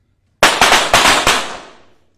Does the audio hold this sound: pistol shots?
yes